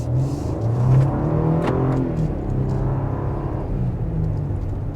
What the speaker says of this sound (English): Very nice and torquey. Engine's very responsive.